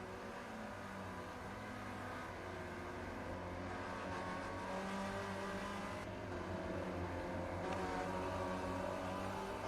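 Steady, droning engine of a Spec Racer Ford race car in the iRacing simulator at Summit Point Raceway, holding a sustained high whine down the straight with slight pitch shifts, no voices.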